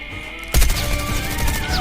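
A sudden blast of gunfire in Call of Duty Mobile erupts after a brief quiet, followed by continuous crackling shots and rumbling, loud and close.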